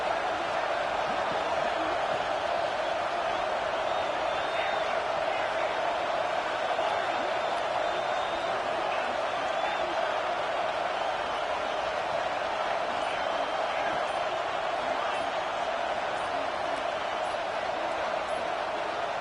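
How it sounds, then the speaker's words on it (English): A college football stadium crowd at Tennessee versus USC roars steadily throughout, a dense, unbroken wall of cheering noise that stays loud and constant, with a commentator's voice faintly beneath it. "with this place rocking, the crowd forces a false start"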